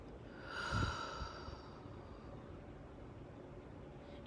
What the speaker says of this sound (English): You reset yourself by simply taking a deep breath